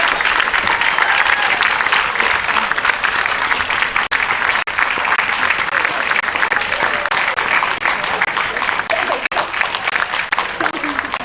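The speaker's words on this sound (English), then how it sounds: "Give them a cheer" An audience at a championship dog show applauds continuously for the winning hound puppies on their lap of honour, a dense, even wash of clapping filling the hall.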